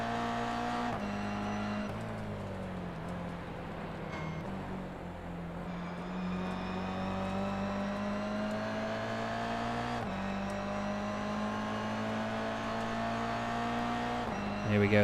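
Toyota GR86 race cars scream down the Sandown start-finish straight in a slipstream, a steady, loud engine drone with rising pitch as they accelerate.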